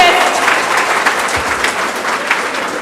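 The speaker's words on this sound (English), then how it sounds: "This is the loudest they've ever clapped in the history of my 9 years here" Loud, sustained applause from a large crowd of schoolchildren at a school event for International Children's Book Day, a dense even roar of clapping that carries steadily throughout.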